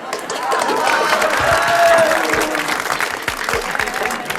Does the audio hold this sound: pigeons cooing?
no